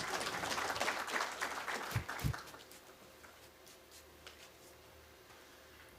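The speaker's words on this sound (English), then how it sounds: "Another round of applause for him," Audience applause at a corporate plan launch event for the Kenya Revenue Authority, a brief burst of many hands clapping that quickly fades into quiet room tone with a few scattered claps, fairly faint overall.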